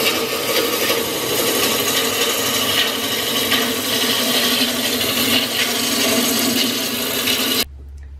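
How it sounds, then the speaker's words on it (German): A wood lathe turns a walnut blank into a sphere on a homemade sphere-turning jig, its cutting tool giving a steady, close, rasping scrape with no pause until an abrupt stop at the end, leaving only a low hum. "Jetzt habe ich mir eine runde Walze gedrechselt"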